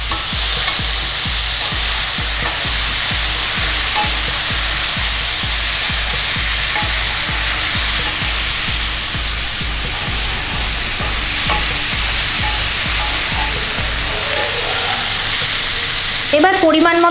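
Pieces of ridge gourd fry loudly in a hot pan, a strong, continuous sizzle with a steady rhythmic pulse of stirring strokes underneath that fades shortly before a brief burst of sharper crackling at the end.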